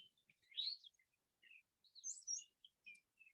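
A brown thrasher mimicking other birds' songs outdoors: faint, scattered high chirps and short warbled phrases in quick bursts with brief pauses, heard from a distance against near silence.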